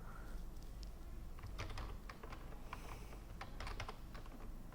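Keys clatter on a computer keyboard in short bursts of quick taps over a steady low hum, with no talking, moderately quiet.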